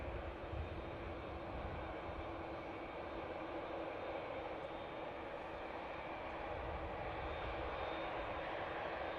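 A tug pushing back an Emirates A380 at Manchester Airport gives a steady, distant, low engine drone with a broad airport rumble that holds level throughout.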